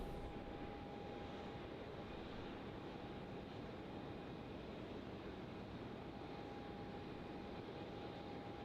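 A Singapore Airlines Boeing 777 freighter arriving at Melbourne Airport gives a steady, fairly faint broadband roar with a thin whine, holding evenly throughout with no voices.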